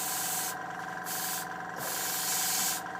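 An airbrush run off a compressor at about 15 psi lays a final sealing coat on a Bluebird K7 model, giving a steady hiss in short repeated bursts over a continuous compressor hum.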